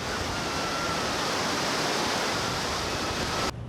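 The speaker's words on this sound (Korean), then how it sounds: "오 대서양답게 파도가 엄청 거친데요" Rough Atlantic waves breaking on Yoff beach in Dakar, Senegal, a dense, steady roar of surf heard up close that cuts off abruptly at the end.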